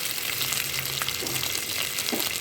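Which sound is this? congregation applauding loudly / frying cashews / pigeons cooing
frying cashews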